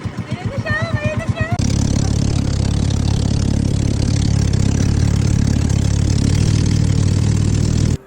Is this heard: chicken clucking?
no